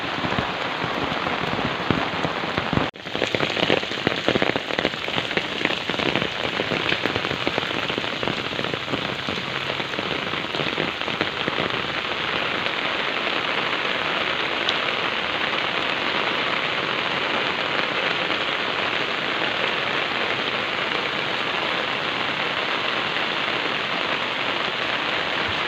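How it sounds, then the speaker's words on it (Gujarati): Heavy, steady rain pours onto a roof over farm fields, a dense unbroken hiss of drops that stays loud and even throughout with no voices. "કન્ટિન્યુ સવારમાં વરસાદ ચાલુ છે."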